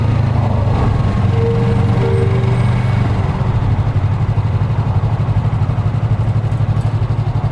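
Yamaha YZF-R3 motorcycle engine running steadily up close, a low throbbing drone that shifts slightly in tone partway through as the bike tries to pull away in second gear, with no talking.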